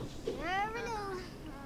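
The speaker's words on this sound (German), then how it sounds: "Meine Katzen rasten aus schon wieder." A single cat meow from The Sims 4 video game, one rising and falling mewing cry lasting about a second, clear and fairly quiet over faint background sound.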